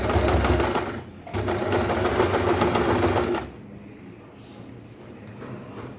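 A sewing machine stitches a petticoat in two loud running bursts, a short one and then a longer one, before falling to a faint hum of handling noise.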